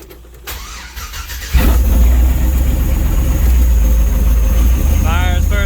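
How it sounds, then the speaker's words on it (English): Supercharged LSA V8 in a C10 truck cold-starting: a quiet crank, then the engine catches at once and settles into a loud, steady, lumpy idle close by, with a faint voice early on. "do a little cold start"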